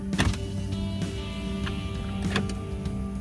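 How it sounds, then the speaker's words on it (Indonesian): Electric windows on a manual-transmission car hum down in a few short motor runs, each a whirring burst with a faint click, close and fairly quiet against a steady low cabin drone, with no talk. "kacanya kita buka aja"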